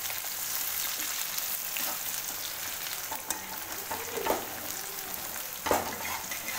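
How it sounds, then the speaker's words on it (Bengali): Thinly sliced potatoes fry crisp in a pan of hot oil, a steady close sizzle with occasional louder stirring scrapes and no voices. "কড়া করে আলু ভাজা।"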